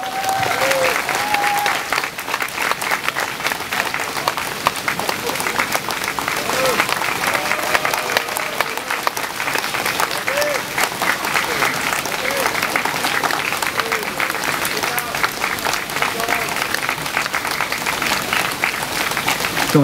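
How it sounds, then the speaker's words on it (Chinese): Wedding guests break into long, even applause right after the bride is kissed, a thick wash of clapping that carries on for many seconds with voices faintly mixed in. "掌声欢迎咁多位"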